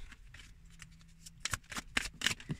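Tarot cards are handled, shuffled and flipped over at close range, a run of soft papery flicks and slaps that grows quicker and louder in the second half.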